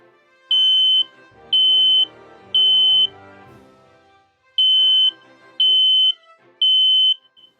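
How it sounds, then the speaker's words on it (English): A smoke alarm sounds loud, piercing beeps in two groups of three, evenly spaced, with quiet background rustling between them. "Smoke alarms make different sounds. That one says beep, beep, beep."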